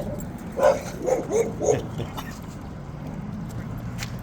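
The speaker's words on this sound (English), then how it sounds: "And we got some dogs everywhere today." A dog at an RV campground in Yuma gives a short run of four or five barks at moderate distance over a low ambient rumble, then falls quiet.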